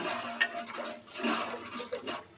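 Water splashes and gurgles as it is poured into a pan of fish curry in a few short, uneven bursts, fairly quiet and close.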